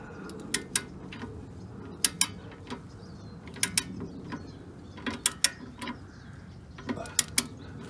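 A torque wrench ratchets on a tie rod nut of a Mercedes-Benz 300E W124 during front steering work: sharp metallic clicks arrive in short clusters of two or three across the clip, close and fairly quiet, with no talking.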